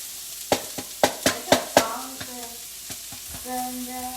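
Cauliflower rice tipped into a hot wok: a run of sharp clacks and knocks up front, then a quieter sizzle with faint metallic ringing tones.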